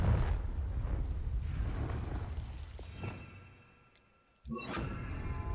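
A Confringo blasting spell explodes in a wizardry video game, a deep rumbling boom that fades away, then a second sharp blast erupts with a low roar and ringing tones.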